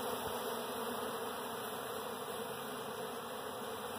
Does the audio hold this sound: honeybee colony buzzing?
yes